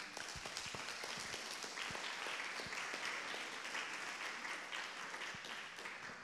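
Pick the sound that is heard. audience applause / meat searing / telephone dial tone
audience applause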